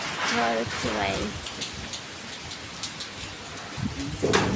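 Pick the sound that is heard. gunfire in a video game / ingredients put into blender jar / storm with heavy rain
storm with heavy rain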